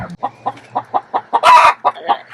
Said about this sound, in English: No, there's a chicken there. Chicken.